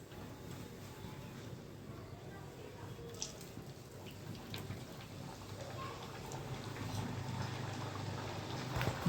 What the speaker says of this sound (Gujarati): આવી રીતે હું બધા ઘૂઘરા તળી લઉં છું.